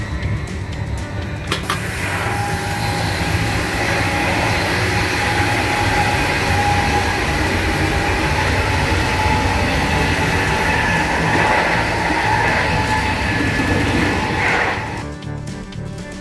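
Steady rumble and clatter of a moving long-distance train on the Arctic Circle line from Stockholm to Kiruna, heard from inside a carriage, loud and continuous throughout with no talk, fading slightly at the end.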